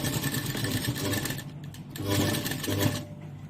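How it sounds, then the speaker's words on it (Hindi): Sewing machine stitching a mirror work blouse, running in a steady continuous whir with a brief pause midway before resuming, close and fairly loud with no talk. "देखिए हम यहाँ पर कुछ इस तरीके से सिलाई लगा रहे हैं।"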